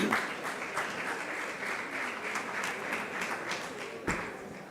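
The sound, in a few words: conference audience applause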